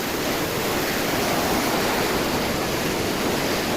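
A small forest waterfall and a rushing stream swollen by heavy rain beside a farm give off a steady, loud, unbroken roar of water from start to finish, with no voices.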